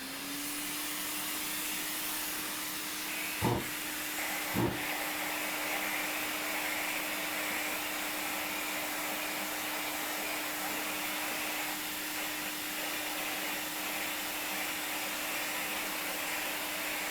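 A steady pneumatic sander runs continuously on a vehicle body being prepared for refinishing, with an even hissing whir and a constant low hum, interrupted by two brief clicks early on.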